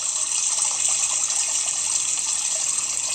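A fountain's water splashes and gushes in a steady, continuous rush, close and fairly loud, with no voices.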